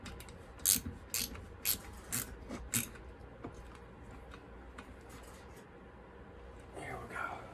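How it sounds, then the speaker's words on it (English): A ratchet wrench tightens bolts on a used saw, with several loud, close ratcheting bursts early on over a busy workshop background, then quieter continuous activity. "Alright, let's finish tightening them on up."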